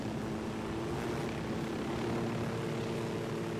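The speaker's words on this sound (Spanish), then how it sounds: "Quiero que sobreviva el helicóptero." A helicopter's rotor and engine drone continuously as it flies and descends to land in the video game Ghost Recon, a loud steady close hum throughout.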